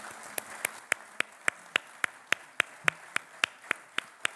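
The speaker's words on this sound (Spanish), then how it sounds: "agradezco los aplausos" An audience at a talk on a book about people at war claps in a steady, even rhythm. The sharp, evenly spaced claps come at a brisk pace and stay moderately close and clear.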